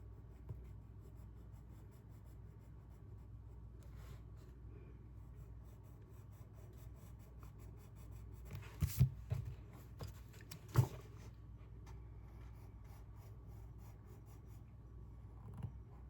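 Colored pencil shading on paper, a soft continuous scratchy rubbing that runs steadily at close range, quiet and even, with a couple of brief louder knocks partway through and no talking.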